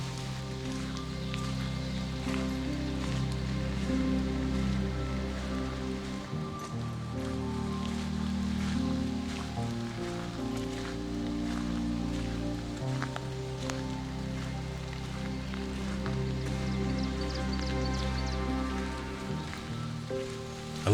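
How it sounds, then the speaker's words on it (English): Light rain patters steadily on a camper, a soft continuous drizzle of droplets alongside a low steady hum that shifts level a few times. "this light rain is going to stick around for a few more hours"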